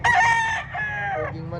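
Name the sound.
rooster crowing at chicken market expo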